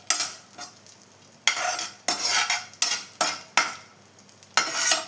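Rava kesari ingredients are stirred and roasted in a pan, with a spoon scraping and clinking against the metal in repeated strokes separated by short pauses, close and fairly loud.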